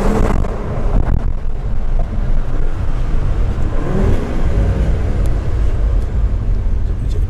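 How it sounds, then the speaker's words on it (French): Audi RS3 five-cylinder engine revving on a slippery surface, a loud, steady broadband roar that rises and swells continuously for several seconds with no speech over it. "si tu veux écouter une petite dernière fois le 5 cylindres"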